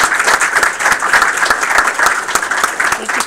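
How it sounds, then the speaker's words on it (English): Loud applause from a live audience at a game studio build review and job fair, dense steady clapping filling the room for a few seconds with no pause. "Give them a round of applause too."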